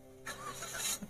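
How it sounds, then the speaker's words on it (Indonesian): A Daihatsu Xenia 1.5R, 2024 with manual transmission, fires up by push-button keyless start: a short cranking whir that catches into a steady idle, heard close from inside the cabin. "Untuk menyalakan mesin karena sudah keyless, jadi cukup injak rem lalu tekan tombol smart engine yang di tengah ya"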